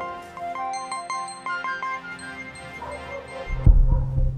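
A phone ringtone for an incoming call plays loud and close as a repeating bright electronic melody with no talk, then gives way to a burst of low rumbling noise at the end.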